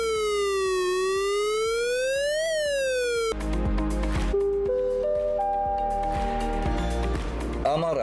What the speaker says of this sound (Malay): Terdapat 2 jenis siren. Pertama, bunyi siren amaran.